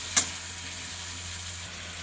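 Pumpkin pieces fry in a pan for a vegetarian pumpkin, potato and pointed gourd curry, with a short sharp clink near the start and then a steady, soft sizzle close by.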